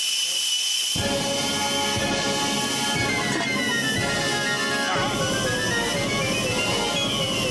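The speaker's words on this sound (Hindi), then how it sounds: "2, 4, 6, 10, 12, 20 सीटियाँ और आने दे।" Cartoon pressure cooker whistling while boiling potatoes: after a brief quiet moment a loud, continuous steam whistle and hiss set in and run on without a break.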